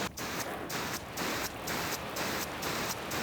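Light rain falls on a Tesla windshield in a steady, soft hiss of raindrops. Faint regular pulses recur about every half second, with no voices.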